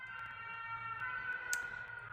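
An ambulance siren wails faintly in the distance, a thin, steady tone that drifts slightly in pitch as it passes, with light clicking and quiet background hum.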